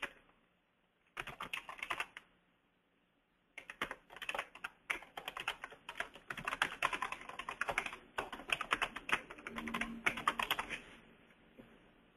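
Rapid typing on a computer keyboard, bursts of dense clicking keystrokes separated by short pauses, close and clear with no talking.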